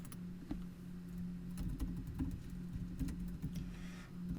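Soft, irregular clicks of a computer keyboard as a math question is typed into a Microsoft Forms question, quiet taps scattered over a low steady hum with no voices.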